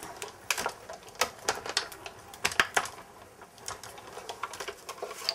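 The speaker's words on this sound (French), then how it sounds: "Et ensuite je viens mouliner et découper tout ça." A hand-cranked die-cutting machine running paper and metal plates through its rollers, giving a quick clattering series of clicks and ratchety taps, faint and fairly steady across several seconds.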